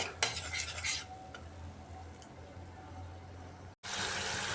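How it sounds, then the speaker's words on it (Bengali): A spice paste of masala being stirred and fried in a pan for a curry with ash gourd, yogurt and tomato: scraping utensil strokes over a steady low sizzle, close by, with a brief dropout near the end before the frying resumes. "মশলাটা ভালো করে কষিয়ে নিয়েছি"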